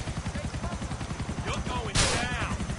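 Rapid gunfire from a handgun-style weapon in Grand Theft Auto IV, a quick run of close, sharp shots under a steady low rhythmic game backdrop, ending in a louder burst.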